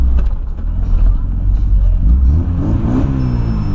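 A Volkswagen Voyage car engine revs close by, its pitch climbing toward the end of a short burst over a steady low rumble, with voices murmuring faintly nearby.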